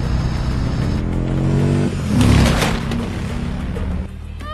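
A car engine in a film chase scene revs up and surges, swelling to a loud roar mid-way before easing off, with no speech over it.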